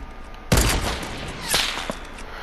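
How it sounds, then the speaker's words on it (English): Gunfire rings out in the video game Fortnite, starting with a sharp loud burst and followed by a few more fainter shots over a steady background hum. "Keep shooting."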